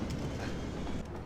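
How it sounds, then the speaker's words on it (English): A passenger train in the Cities: Skylines video game rumbles past with a steady rolling clatter, close and continuous for a brief moment. "here is your train. Passenger train."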